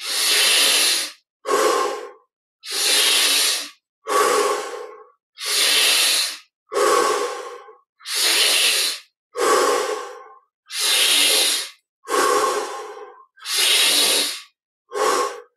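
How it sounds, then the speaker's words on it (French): Deep, slow breaths during guided meditation, about a dozen long airy inhales and exhales in a steady rhythm with short pauses between, close and clear with no talking. "Encore profonde respiration profonde. Prenons un peu plus d'air."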